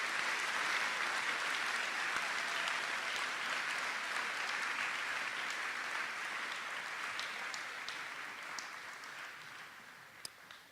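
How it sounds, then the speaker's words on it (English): A crowd at a senior awards ceremony for graduating students claps steadily for the full ten seconds, a dense wash of applause that tapers gently toward the end, with a few distinct claps standing out near the close. "Let's give these young men a round of applause"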